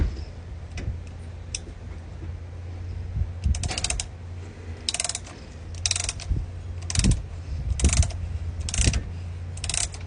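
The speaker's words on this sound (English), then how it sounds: "we'll go ahead and throw this little ratchet wrench on there." A small ratchet wrench turns a flaring tool clamped on a 3/8 copper line for a mini split connection, giving bursts of close, crisp ratcheting clicks in short repeated strokes, with no talking.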